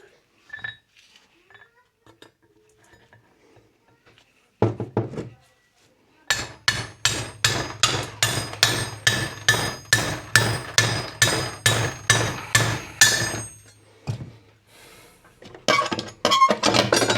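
Sharp metallic hammer blows cutting metal ring out in a fast, regular series on a hard plate, with a few scattered taps before and after.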